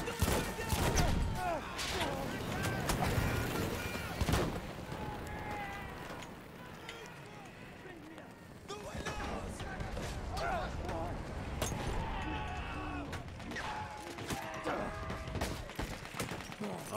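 Gunfire from the video game Battlefield 1, with repeated sharp shots and bursts over busy battlefield noise and someone talking excitedly.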